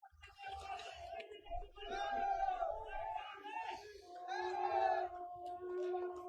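A crowd at a political rally speech by Punjab Chief Minister Bhagwant Mann shouts and chants in loud, rising waves of many voices, more cheering cries than clapping.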